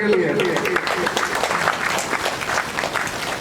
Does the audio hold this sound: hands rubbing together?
no